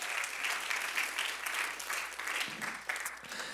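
Church congregation applauding, a steady wash of many hands clapping at a moderate distance, fairly quiet and continuous for several seconds.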